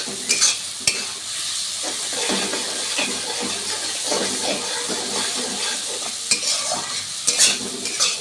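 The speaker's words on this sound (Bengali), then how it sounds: "দিয়ে দেওয়ার পর এটাকে ভালোভাবে নাড়িয়ে চাড়িয়ে মশলাটাকে কষাবো" Spice paste with ground spices being stirred and fried in a pan for doi katla fish curry, with a steady broadband sizzle and repeated scraping stir strokes, close and continuous, with no talk.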